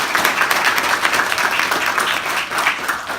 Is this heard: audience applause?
yes